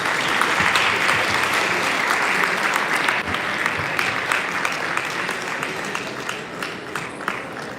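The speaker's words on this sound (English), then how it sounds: "Please, let's give him a round of applause." Lecture hall audience breaks into sustained, loud applause after a talk ends, a dense, even roar of clapping lasting nearly eight seconds with no talking.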